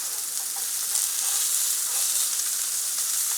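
Bombay duck (bombil) fish fry in hot oil in a pan, giving a constant bright crackling sizzle with a soft steady hiss that runs close and even throughout, with no talk over it.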